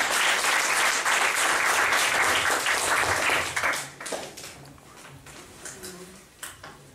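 Sustained, loud applause from a church congregation, dense clapping that fades and breaks into scattered claps and murmurs toward the end.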